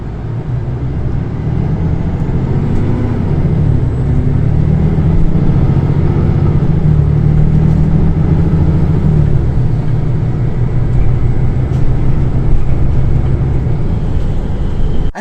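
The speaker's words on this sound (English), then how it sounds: "So then I now take a ride on a bus." A bus engine drones in a low, steady rumble throughout a ride in Luxembourg, loud and continuous from inside the vehicle, with faint rattles and no talking.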